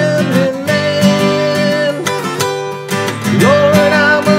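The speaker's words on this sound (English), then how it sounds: "And then we get those nice little guitar harmonies." Guitar harmony lines, two sustained melodic parts gliding over a full band backing, loud and continuous.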